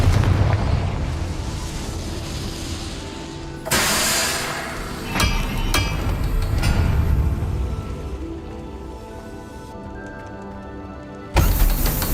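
Fire spells explode in Hogwarts Legacy, a fantasy video game. Several loud booming blasts land over rumbling background noise, with sharp onsets and decaying tails and a sudden final burst near the end.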